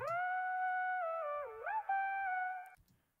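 A pitched, unprocessed vocal sample for a beat sings one sustained, tonal line that holds steady, dips and bends briefly in the middle, then cuts off, clear and alone with no talking.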